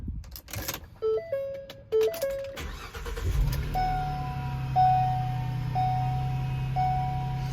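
A 2014 BMW 320i starts up after a series of dashboard chimes and clicks, the engine catching and settling into a steady idle hum while a regular warning beep repeats about once per second.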